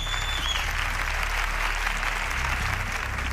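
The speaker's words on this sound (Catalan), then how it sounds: "Un fort aplaudiment pels capitans i capitanes." A crowd at a community event applauds team captains as they arrive for a final vote, producing a dense, steady wash of clapping that holds at an even level for several seconds.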